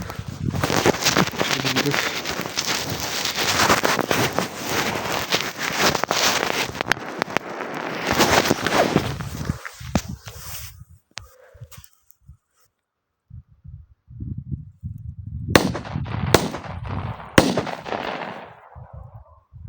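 Several sharp firecracker bangs burst out in quick succession from a three-shot banger, then scattered pops and a dog barking in the quieter stretch afterward.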